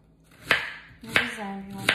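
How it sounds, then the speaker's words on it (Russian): Three sharp knife chops slicing ginger strike a cutting board, spaced about half a second apart, close and crisp with quiet gaps between. "нарезаем его на дольки"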